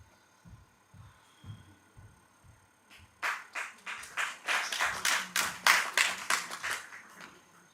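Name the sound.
clapping, applause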